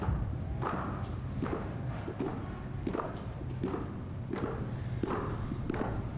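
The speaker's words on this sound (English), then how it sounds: "We can hear the footsteps of VP-elect Harris coming down the stairs from the crypt." Footsteps come down stone stairs in the Capitol at a presidential inauguration, a steady series of firm, hollow thuds in even rhythm, moderately close with light room echo.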